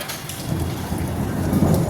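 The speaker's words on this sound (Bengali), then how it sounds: "এতক্ষণে আবার আকাশ ডাকা শুরু করলো।" Low thunder rumbles and swells beneath steady, close rainfall, growing slightly louder toward the end.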